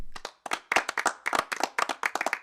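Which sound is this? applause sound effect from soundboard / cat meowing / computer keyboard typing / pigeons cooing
applause sound effect from soundboard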